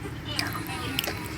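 Someone chews fries close up, with soft wet bites and a couple of crisp clicks over a steady background hum.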